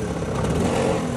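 A freshly repaired Chetak scooter engine runs and revs nearby, a steady, fairly loud mid-pitched engine drone with slight swells and no speech.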